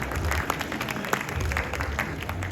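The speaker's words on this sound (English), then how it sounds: "Let's give James Wildman a round of applause" A crowd at a vegan fitness expo applauds, steady dense clapping from a sizable audience that holds at an even level throughout, with some voices mixed in.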